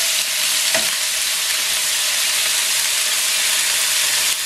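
Crab frying in a pan with wine added hisses in a steady, loud sizzle, with a brief clink of stirring near the start and no talking.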